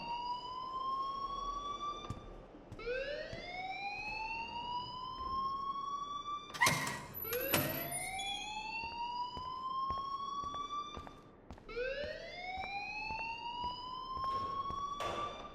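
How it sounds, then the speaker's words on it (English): An alarm blares in the video game Life Is Strange, a loud rising electronic wail that sweeps upward and repeats in long cycles, with a few sharp bangs and clicks breaking in partway through. "please turn off that alarm since that's your job"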